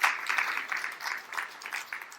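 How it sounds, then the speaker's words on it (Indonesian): A church congregation claps together in lively, sustained applause, a dense patter of many hands at moderate distance. "Tepuk tangan yang paling meriah buat Tuhan Yesus."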